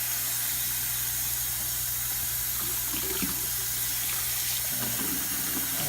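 Tap water runs steadily into a sink while an air fryer basket is rinsed, a loud continuous rush with small splashing shifts as the basket moves under the stream.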